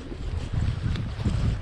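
Wind blowing by an exposed river while fly fishing for trout, a rough, gusty rumble buffeting the microphone in uneven surges, close and fairly loud.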